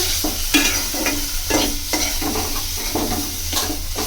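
Onion and coconut masala paste fries in a pan on a stove, hissing with a steady, loud sizzle broken by repeated scraping stirs at a regular rhythm.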